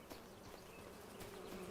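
Bees buzz in the video game Farming Simulator 25 on a farm, a faint, steady insect drone that continues without a break and with no voices.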